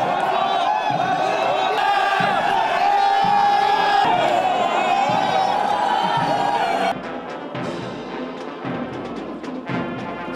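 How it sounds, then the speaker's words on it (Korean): Senior cadets at a Korean military academy cheer and shout encouragement to junior cadets returning from their first 10 km march: a loud, continuous mass of voices and whoops that drops suddenly to a scattered, quieter din near the end. "한바탕 축하와 격려의 환호성이 지나가고"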